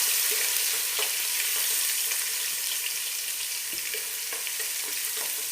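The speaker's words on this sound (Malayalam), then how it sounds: "ഇതിൻ്റെ പച്ചമണം മാറുന്നത് വരെ നന്നായിട്ട് വഴറ്റി കൊടുക്കണം." Ginger, garlic, green chilli and curry leaves are sautéed in hot oil in a pan for ghee rice, giving a continuous close sizzle broken by soft clicks and scrapes as the spatula stirs them.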